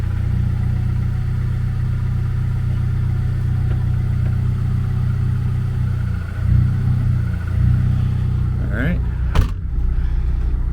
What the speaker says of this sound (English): So right now we're just going a little bit back and forth, hit the brake a couple times.